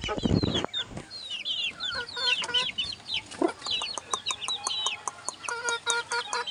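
Sweater Pumpkin Hatch gamefowl chickens cluck and chirp close by in a rapid, uneven series of short calls, with a brief thump at the start and some quiet voices underneath.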